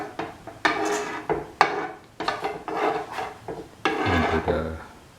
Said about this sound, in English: Thoroughly mix the yogurt